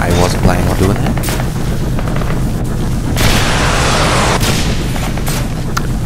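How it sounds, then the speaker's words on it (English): Rocket launcher fire in the video game Singularity: heavy booms and blasts crowd a dense, continuous wall of combat noise, with loud bursts throughout and a voice talking over the action. "Pick up a rocket launcher again. Shoot another one of them."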